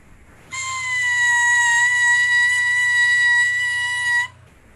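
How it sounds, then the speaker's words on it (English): An oboe reed crows alone on a steady, reedy pitch near B for about four seconds, buzzy and bright with strong overtones, starting and stopping abruptly. "all reeds ideally should peep at the pitch level B"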